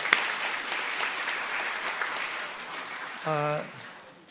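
A church congregation at a Mandarin-language worship gathering in Taiwan claps in thanks to God. Dense, even applause fades gradually, and a brief voice cuts in near the end.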